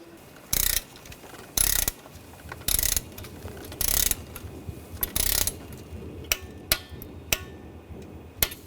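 Torque wrench tightening intake manifold bolts on a 2004-2012 Chevrolet Colorado 3.7L engine: a series of loud, evenly spaced ratcheting bursts, then several sharper, shorter clicks toward the end, close up.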